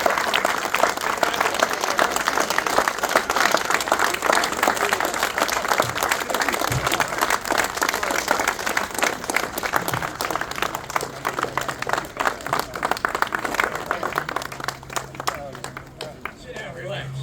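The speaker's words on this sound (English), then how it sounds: "let's give a big New Jersey Vietnam Veterans Memorial round of applause for this" Long, steady round of clapping from an audience at the New Jersey Vietnam Veterans Memorial grand reopening, continuous and fairly close, thinning slightly near the end with faint murmuring beneath.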